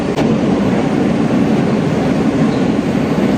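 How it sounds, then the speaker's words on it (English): Steady rumble of a New York City subway train halted short of its station, a dense continuous low drone with hiss and a faint clank near the start, no talk. "The train literally stopped 1 stop before I have to get off."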